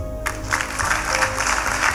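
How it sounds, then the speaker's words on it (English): A church congregation claps during a pastor's sermon, a soft burst of scattered clapping that starts abruptly and continues evenly over a low hum. "Clap if you want to."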